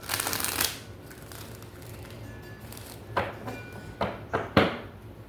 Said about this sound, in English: That was a hard shuffle.